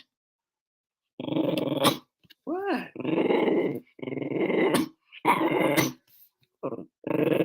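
A pet dog growls in low, rumbling bursts close by, broken by a few whiny whimpers, while a person talks to it affectionately between the growls.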